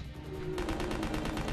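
Rapid bursts of gunfire in the Resident Evil Code Veronica X video game, a dense run of shots starting partway through and sounding close and loud over a steady background.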